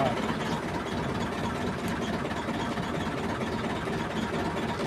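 A heavy vehicle engine running with a steady, continuous rumbling roar, loud and close, with no change in pace throughout.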